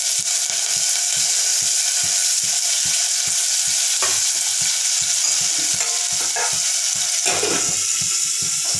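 Green chillies, onions and curry leaves frying in a pan give a loud, steady sizzle with rhythmic stirring scrapes throughout, a few sharper crackles standing out near the middle and end, and no talking.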